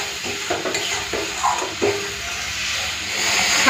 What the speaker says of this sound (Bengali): সামান্য একটু জল দিয়ে দিলাম যাতে মশলাগুলো পুড়ে না যায়।